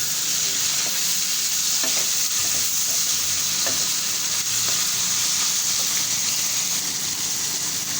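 Chopped tomato sizzles in a pan with minced meat for a keema aloo dish, a steady loud frying hiss running throughout with a few faint utensil scrapes and taps.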